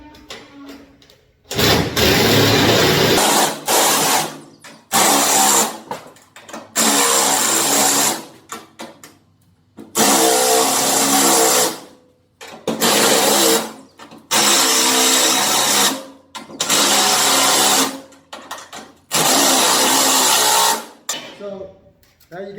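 A power driver drives fasteners into a Model D Roof Hugger on a standing seam metal roof recover, with about eight loud whirring bursts of a few seconds each separated by short pauses, and speech at times.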